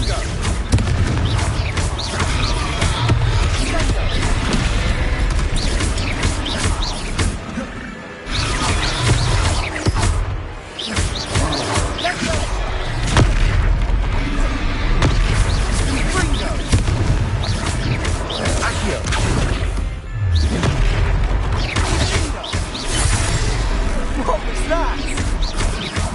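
Confringo fire spell blasts in the Hogwarts Legacy video game burst amid loud continuous battle noise, booming impacts and crackles layered over music, with brief drops in intensity and voices talking.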